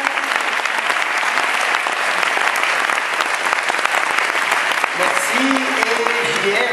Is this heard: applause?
yes